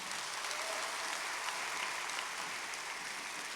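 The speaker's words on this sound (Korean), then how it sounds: "먼저 수고해주신 신명의 헵시바에게 뜨거운 박수 부탁드립니다" A congregation at a Korean church's June 25 memorial service gives warm applause after a performance, a continuous even roar of many hands clapping at close range, steady throughout.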